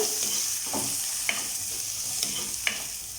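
Slit green chillies and onion sauté in a pan, giving a continuous close sizzle with a few soft stirring scrapes and no speech.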